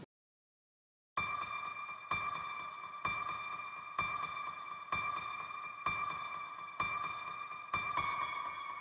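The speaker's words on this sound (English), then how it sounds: "As well as this piano." A piano with delay and reverb effects repeats one bright chord roughly once a second, each strike ringing out with echoing repeats and a lingering reverberant tail.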